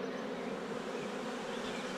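Honey bees at a hive fan their wings and call their sisters, making a dense, steady buzzing drone that holds evenly throughout, close and continuous.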